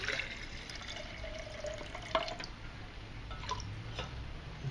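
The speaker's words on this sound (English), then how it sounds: "So let's pour some water in here." Water poured into a stainless steel mess kit pot outdoors, a soft steady trickle and splash with faint metallic ticks, quiet and close, no talking.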